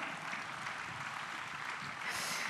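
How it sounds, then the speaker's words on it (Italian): Audience applause at a public discussion event on Europe's future, a steady broadband patter of clapping filling the short stretch, fairly dense and even throughout with no clear speech over it. "ci vuole un bel applauso perché hai detto una cosa importante."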